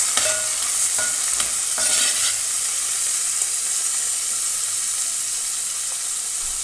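Okra being stirred in a hot pan with tomato and green chili for a Kerala ozhichu curry, giving steady close sizzling with scraping spoon strokes and no talk.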